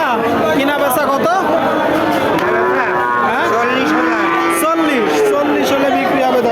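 A bull calf moos loudly and repeatedly at a busy cattle market, with long drawn-out calls over a constant hubbub of people chatting nearby.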